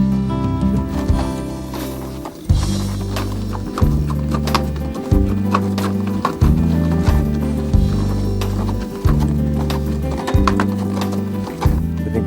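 Horse hooves clip-clop in a steady rhythmic walk during an hour-long trail ride at a resort and country club in Thailand, close and continuous, with faint background noise.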